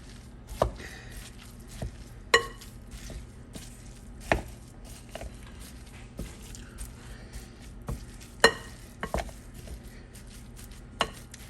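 Ground beef mixed with chorizo gets broken apart in a frying pan, giving irregular sharp scraping and chopping knocks spaced a second or two apart over a faint steady background hiss, close and fairly quiet with no talking.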